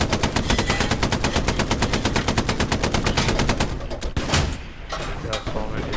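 Rapid automatic gunfire from the World War II shooter game Hell Let Loose, a loud, steady stream of regular bursts that stops near the end, giving way to scattered shots and battlefield noise.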